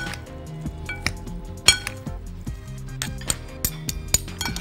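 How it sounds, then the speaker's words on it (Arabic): Two spoons stirring and tossing a spicy chicken salad in a bowl, with repeated sharp clinks and scrapes over steady background music. "بص معلقتين بقى كده ونقلب بقى السلطه بتاعتنا"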